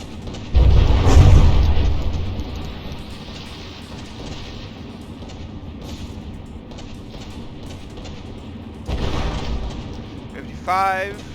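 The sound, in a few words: ship detonating in explosion, from video game From the Depths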